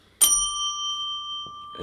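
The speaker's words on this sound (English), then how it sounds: "there hadn't been enough bell ringing" A single bright bell strike rings out and sustains with a clear, slowly fading tone, followed by brief low thuds and noise near the end.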